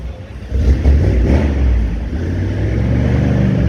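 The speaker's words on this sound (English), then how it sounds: "Got a car revving up in the background back there." A car engine revs somewhere in the background at a Mecum collector car auction in Kissimmee, Florida, rising in a rough mid-pitched growl and then holding a steady roar with no one speaking.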